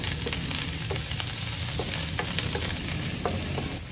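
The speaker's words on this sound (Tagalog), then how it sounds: "The garlic and then saute the onion." Garlic and onion sauté in a pan for a chicken vegetable stir fry, giving a loud, continuous sizzle with repeated light clicks of stirring.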